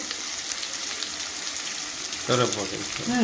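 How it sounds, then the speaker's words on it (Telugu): Onions sizzling as they drop into hot oil for tempering panagantaku, a steady frying crackle that swells near the end, with a voice talking over it. "ఉల్లిపాయలు వేసేస్తున్నానండి మరీ ఎర్రగా వేగక్కర్లేదండి ఉల్లిపాయలు"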